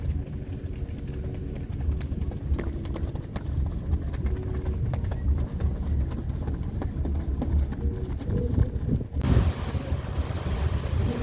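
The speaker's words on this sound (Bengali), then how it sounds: "আমাদের ক্রুজ চাঁদপুর থেকে ঘুরে এবার ঢাকার দিকে যাচ্ছে" A river cruise launch travels on the river from Chandpur toward Dhaka, its low engine rumble and lapping water buried under loud, steady wind buffeting the microphone.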